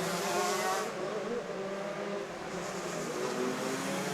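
Stock Honda shifter karts racing on a track during the Lone Star Grand Prix, with dense, high-pitched engine whine from several karts blending into a continuous loud roar that swells and eases as they pass.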